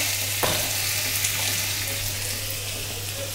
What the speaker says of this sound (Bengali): করলা ভাজি সুন্দর করে ভেজে নিচ্ছি।